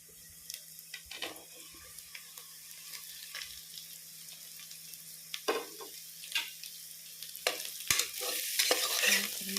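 Onions and thickly cut mushrooms for a mushroom biryani fry quietly in a pan, with soft scattered stirring scrapes and a few sharper knocks of the utensil, the sizzle building slightly toward the end.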